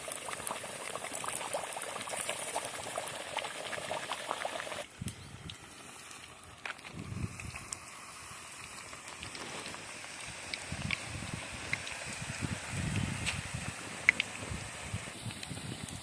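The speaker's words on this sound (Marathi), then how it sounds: "तर आता तेल तापलेलं आहे तर त्यामध्ये आता आम्ही पुरी सोडणार आहोत" Pumpkin puris dropped into hot oil deep-fry with a continuous bubbling sizzle, loud at first then settling into a steady, slightly quieter bubbling, close up with no talking.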